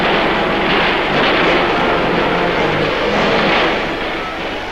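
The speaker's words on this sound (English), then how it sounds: "After the fighting, copters put down to evacuate the wounded." Military helicopters in a Vietnam-era newsreel near Bong Son, with a loud, steady broadband engine and rotor roar that swells slightly and fades toward the end, alone without talk.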